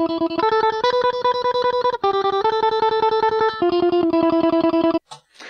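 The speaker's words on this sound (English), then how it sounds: "we have this kind of lead guitar track" A lead electric guitar line played back from a recording, with distorted, effects-laden tone picking steady repeated notes that step through a few pitches, loud and continuous before cutting off.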